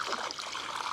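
Liquid water clarifier poured from a bottle into a backyard swimming pool, a steady close trickling and splashing stream running throughout without pause.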